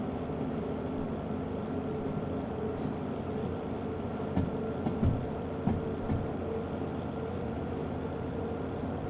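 A 500-ton train pushed by a single locomotive in the railway game Derail Valley, a steady low rumble of rolling stock with a few faint clanks and thumps from the wheels and couplings.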